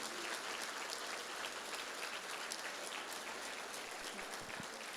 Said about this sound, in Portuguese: Vamos aplaudir a vida delas?